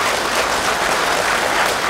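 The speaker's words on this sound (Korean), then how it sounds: "여러분 뜨거운 박수로 환영을 먼저 좀 해주시면 고맙겠습니다" Dense, loud applause from an audience at a local district talk show, a continuous full roar of clapping welcoming a speaker, close and steady throughout with no voices.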